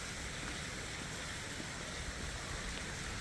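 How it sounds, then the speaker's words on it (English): Water pours steadily through old wooden canal locks, a constant broadband rushing that fills the short stretch without pause. "You can just hear the water coming down."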